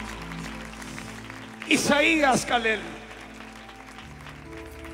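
Audience applause, with cheering voices, breaks out for the psalmist Isaías Calel at the 18th-anniversary church gathering of Pasión por el Espíritu. It comes as a short, loud burst between stretches of someone speaking over soft background music.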